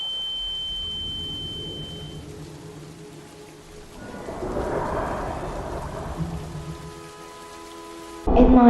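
Heavy rain falls at night, a steady broadband wash that swells midway with a low rumble like distant thunder, ending in a sudden louder burst.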